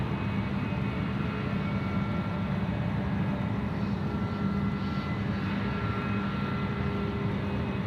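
A Boeing 777 airliner at Sydney Airport produces a steady, low engine rumble with faint tonal whine, heard at moderate distance and holding at an even level with no voices.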